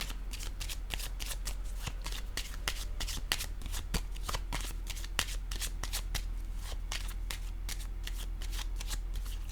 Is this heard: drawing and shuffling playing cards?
yes